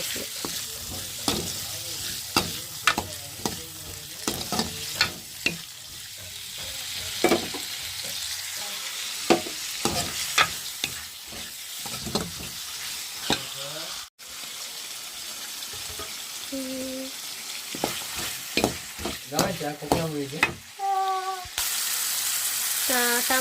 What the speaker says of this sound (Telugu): కరేపాకు కూడా వేసుకొని ఫ్రై చేసుకుందాం